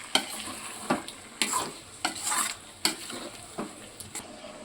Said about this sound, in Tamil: ஒரு 100 ml தயிர் ஊற்றி நல்லா மிக்ஸ் பண்ணிக்கலாம்.